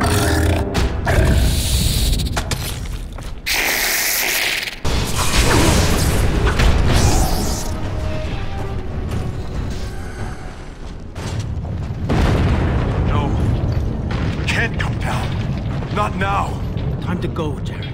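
A forge being destroyed in the video game Dragon Age: Origins, a loud, continuous rumbling roar with booming crashes and mechanical grinding that surges and falls over about eighteen seconds.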